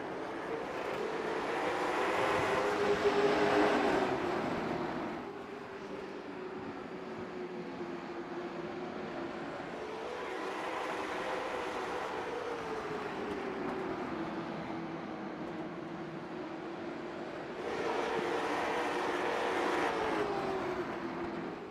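Late model stock cars race at Oxford Plains in the iRacing game, engine note droning steadily with pitch rising and falling through laps, swelling louder in periodic passes, with no talk.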